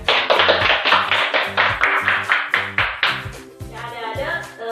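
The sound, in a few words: classroom clapping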